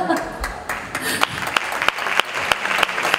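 Audience applause at a Latin music awards show, scattered clapping building under a mix of voices, with sharp regular beats cutting through as a song starts.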